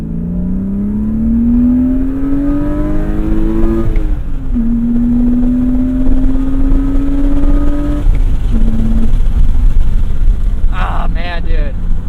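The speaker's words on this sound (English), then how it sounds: "this is a Jim Conforti intake on it, and a Super Sprint catback. Yep, sounds really good." BMW M3 fitted with a Jim Conforti intake and Super Sprint catback exhaust, its engine rising steadily in pitch through the gears in several pulls with brief shift breaks, loud and close.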